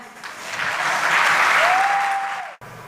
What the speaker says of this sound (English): A huge round of applause for her once again.